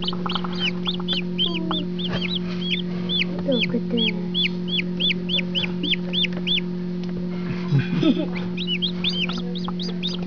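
Chickens cluck and chicks peep in quick repeated high calls beside an artificial egg incubator during hatching, over a steady loud machine hum, with a brief voice speaking.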